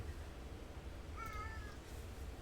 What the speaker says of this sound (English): Hi, little kitty.